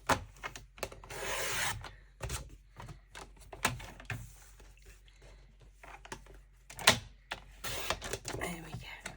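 Scissors snip through a piece of blue card at a craft desk, giving short rasping cuts in irregular bursts, close and moderately loud, with a voice talking intermittently around them.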